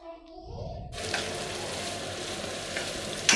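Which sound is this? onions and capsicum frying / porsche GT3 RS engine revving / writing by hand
onions and capsicum frying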